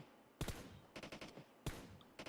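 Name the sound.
gunfire while aiming in PUBG Mobile video game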